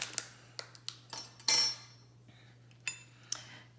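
Scattered light clinks and scrapes of a utensil mixing an egg-replacement mixture in a container, a handful of short taps and one louder scrape spaced across a few seconds, with no talking.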